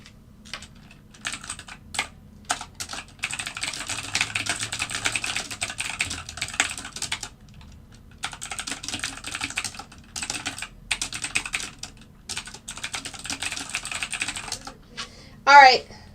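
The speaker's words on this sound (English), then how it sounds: "I'm typing like that because I'm typing" Bursts of rapid typing clatter on a computer keyboard, close and fairly quiet, in long runs broken by pauses, ending with a brief louder sound.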